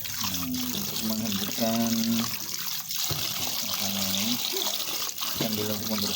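Cooked noodles for chicken noodle soup rinsed under a running tap to cool them, a steady trickle and splash of water continuing throughout while a person talks over it.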